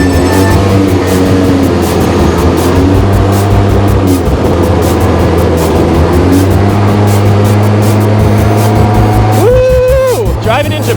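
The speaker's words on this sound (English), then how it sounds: "I'm driving a go-kart in Japan" A go-kart drives through Tokyo streets with a loud, constant engine drone and passing traffic, while voices call out over it near the end.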